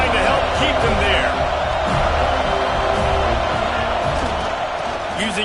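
A stadium crowd roars steadily through a Top 25 college football matchup, a dense, loud wall of cheering that never lets up, with a commentator talking over it.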